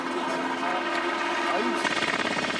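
Military helicopter arriving over a special forces descent training ground, a steady loud rotor and engine drone that fills the whole stretch, with a voice talking briefly over it.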